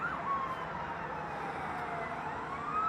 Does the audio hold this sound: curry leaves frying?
no